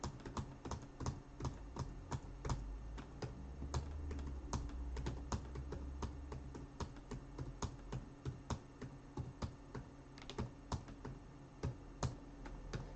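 Typing on a computer keyboard, with quiet, irregular key clicks and taps close by over a faint steady background hum for the full duration.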